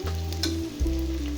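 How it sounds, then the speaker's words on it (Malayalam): Shallots added to onions and green chillies frying in a pan for beef curry set off a brief, close sizzle with a low steady hum underneath and a couple of soft stirring clicks. "സവോള ഒന്ന് വാടിയതിന് ശേഷം ഒരു 150 ഗ്രാം ചെറിയുള്ളി ഇട്ട് കൊടുക്കാം."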